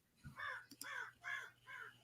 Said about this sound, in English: Now, was that a crow?